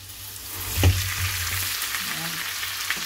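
Shrimp drops into browned butter in a pan and fries with a close, even sizzle, a brief clatter near the start, then a steady crackle for a few seconds with no talking.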